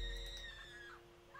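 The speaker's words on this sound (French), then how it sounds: "Oh merde, on entend crier" A drawn-out wavering scream inside the zombie survival game Project Zomboid, a thin tonal wail that rises and falls over a low rumble, faint and distant-sounding.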